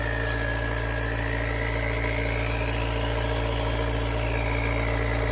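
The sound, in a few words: diesel engine turbo running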